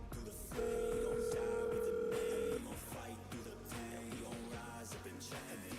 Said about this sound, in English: Let's see if they answer the phone.